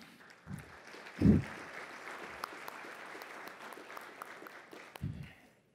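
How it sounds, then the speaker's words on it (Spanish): Applause welcomes a speaker at the fourth Global Energy Forum. Moderate, steady clapping from a seated audience is broken by a few dull low thumps, and it stays fairly soft throughout. "que lo recibimos con un gran aplauso"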